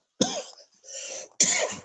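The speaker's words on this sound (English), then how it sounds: "I've got allergies, so excuse me for coughing." Two sharp, close coughs, separated by a softer raspy throat sound in between.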